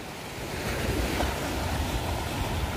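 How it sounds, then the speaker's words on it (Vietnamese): Sea waves wash steadily onto the shore of a wooded beach, a continuous broad surf roar with wind buffeting the microphone throughout, no voices. "Còn sóng biển còn rất là nhiều"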